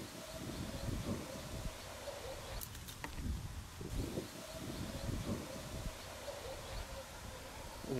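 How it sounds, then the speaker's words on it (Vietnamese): Strong gusts sweep through dense tree foliage, making a continuous loud rustle of leaves and a roar of wind with surges and lulls. A few faint sharp ticks sound partway through. "Trời giờ đang gió lắm các bạn."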